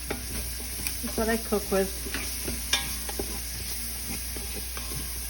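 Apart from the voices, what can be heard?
meat sautéing in olive oil in a pan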